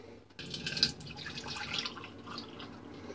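Water being emptied from a container and dripping during a shaving routine, a close, continuous splashing trickle with scattered drips and no talking.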